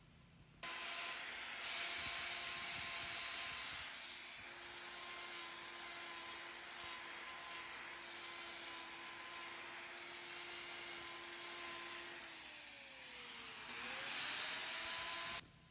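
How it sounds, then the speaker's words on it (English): An angle grinder trims a cow's twisted, rotated hoof claw to flatten its bottom. A steady, loud, close whine runs for the whole stretch, with a pitch dip near the end as the grinder bears down, and no talking. "I notch this area out with my grinder"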